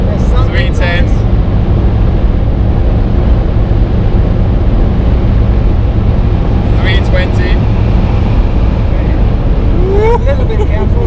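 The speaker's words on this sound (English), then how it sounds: "Aside from the wind noise," Wind noise inside a 2017 BMW Alpina B7 driving above 300 km/h, a loud continuous broadband rush with road and engine roar underneath, while people talk over it at intervals.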